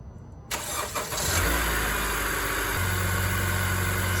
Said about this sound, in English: I'm going to turn on the headlights and start the car with the new battery in place.